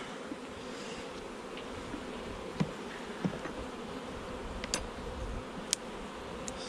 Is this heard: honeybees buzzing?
yes